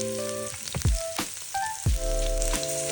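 Onions hit hot oil and sizzle loudly, with a few clinks and stirring scrapes over a steady frying hiss.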